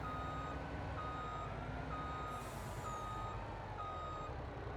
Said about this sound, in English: in my brand new truck, I should be able to back directly under this